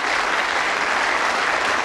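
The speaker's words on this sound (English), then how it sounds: "a round of applause of encouragement for Mr." A television game show studio audience breaks into a thick, even wall of clapping that stays loud and unbroken throughout.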